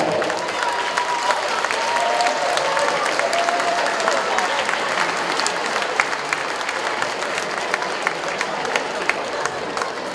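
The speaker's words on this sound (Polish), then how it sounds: "Brawa dla skrzatów trwają." Sustained applause from a crowd at a youth football gala for young players, dense steady clapping filling the whole stretch with some voices and cheers mixed in.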